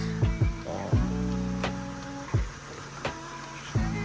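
A Nissan Laurel C33 with an automatic gearbox cranks over in park. The starter whirs steadily while sharp mechanical thumps repeat at uneven intervals, and the engine does not catch.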